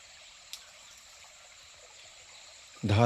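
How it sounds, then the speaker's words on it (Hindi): A small perennial forest stream flows among hills in Madhya Pradesh, its soft, steady trickle faint and distant, ending with a sudden loud close rustle. "पानी की आवाज़ आ रही है।"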